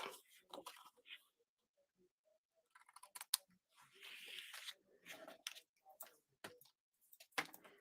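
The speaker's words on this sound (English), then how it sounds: "Grab my scissors." Scissors trim designer series paper off the bottom of a card layer with a few faint, short snips and small clicks between quiet gaps.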